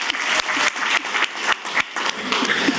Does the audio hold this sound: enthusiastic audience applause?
yes